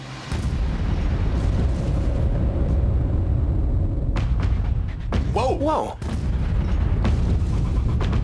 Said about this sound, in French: Après la terrible déflagration, un gigantesque nuage de fumée noire s'élève dans le ciel.